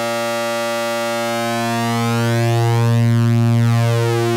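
A Roland System-8 synthesizer super saw oscillator holds a sustained buzzy tone that swells slightly louder and shifts in color, with phasing sweeps, alone with no talk.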